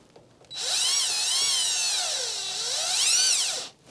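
A power drill drives screws into a Hauslane WM-530SS stainless steel under-cabinet range hood during installation. One steady, loud whine runs for about three seconds, rising and falling in pitch as the screw goes in, and stops abruptly.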